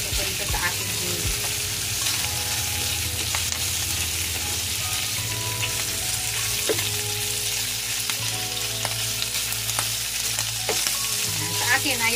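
Bacon sizzles and crackles steadily on a grill in its own rendered fat, a dense continuous fry with occasional sharper pops and light scraping throughout.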